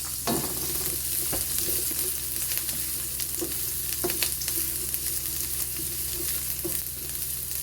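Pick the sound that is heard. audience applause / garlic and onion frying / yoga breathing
garlic and onion frying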